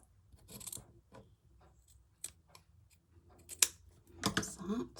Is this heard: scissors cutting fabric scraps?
yes